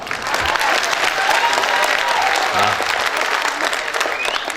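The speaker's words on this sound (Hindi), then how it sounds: "आप लोग एक बार जरा ढंग से तालियां बजा दे तो मैं ढंग से स्टार्ट हो सकता हूं" An audience at a Hindi humorous poetry recital, a kavi sammelan at a festival in Jalore, claps loudly and continuously, a thick, even roar of hands filling the whole stretch.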